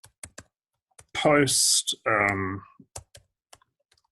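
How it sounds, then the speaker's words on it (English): Computer keyboard typing, scattered sharp key clicks at close range with a short spoken word and a longer stretch of talk in the middle. "So I'm just going to do this like live typing."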